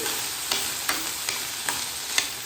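Boiled chickpeas with salt and chili powder are stirred in a hot pan. A constant sizzle is punctuated by about five evenly spaced spoon scrapes, close and clear.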